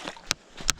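Two sharp splashes, close by and evenly spaced, as boots stride through deep water on a stretch of the Mountains to Sea Trail, with no talking.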